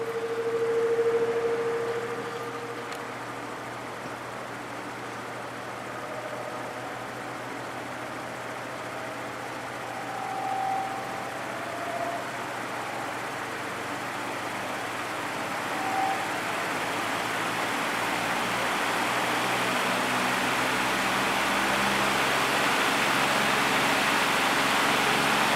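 A vintage Lakewood high velocity fan motor runs on its low setting, a steady, fairly quiet whir and airy hum that slowly builds as it comes up to speed, with no talking.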